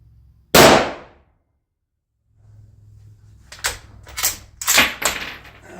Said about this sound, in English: let's fire this 220 Swift.